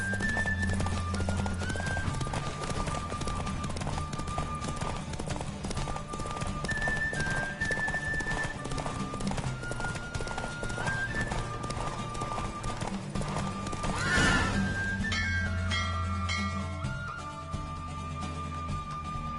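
Steady, rapid clip-clop of galloping hooves in The Witcher 3 runs beneath continuous game music, with an occasional whinny rising above it.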